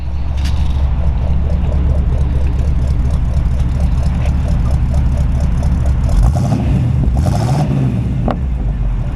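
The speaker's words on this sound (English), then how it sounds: "Rev it up a little bit, Ron." A 1950 Oldsmobile Rocket 88 Deluxe Club Coupe's engine revs up close and loud, a steady throaty rumble that swells and falls in a couple of throttle blips near the end, with no talking.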